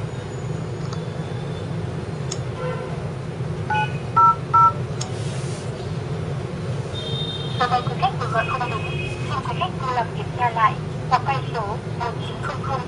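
A tablet phone dials a Hanoi landline, giving a few short DTMF keypad beeps early and then a rapid run of dialing tones, heard over a steady low hum and background noise.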